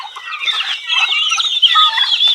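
A flock of turkeys gobbles and clucks together in a dense, continuous chorus, close and loud, with no talking.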